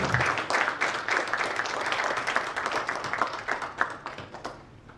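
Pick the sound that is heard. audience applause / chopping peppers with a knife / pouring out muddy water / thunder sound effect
audience applause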